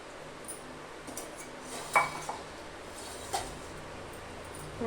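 Ground spice paste mixed into buttermilk in a bowl for kadhi, heard as faint clinks and scrapes of a spoon against the dish with a few brief taps, fairly quiet overall.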